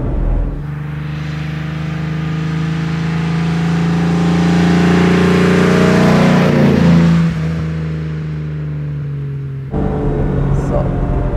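A 1956 Mercedes 300 SL Gullwing with sidepipes and Rudge wheels accelerates hard, its engine note climbing in pitch and loudness up close, then easing off before a brief gear change and renewed pull.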